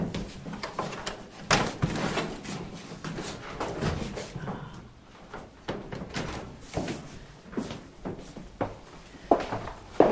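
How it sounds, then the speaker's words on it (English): A heavy bookcase concealing a hidden door is swung open in an old house, giving a run of loud wooden thumps, knocks and scraping bumps over about ten seconds, close by. "a very heavy bookcase with a door behind it"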